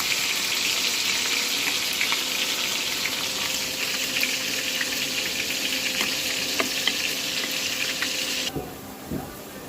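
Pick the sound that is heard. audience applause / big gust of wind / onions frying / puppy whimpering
onions frying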